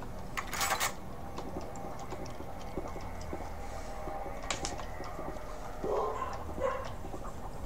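Dogs barking in the Doom 3 video game: a few short, muffled barks and yelps, one burst near the start, another mid-clip and a pair toward the end, over a steady low game ambience and faint ticking.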